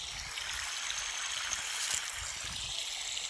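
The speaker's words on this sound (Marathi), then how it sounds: "ते बघा पाणी पुढं जात होतं ना" Irrigation water flowing along a furrow into a guar field, a steady close rushing trickle with soft gurgles running throughout, outdoors with no talk.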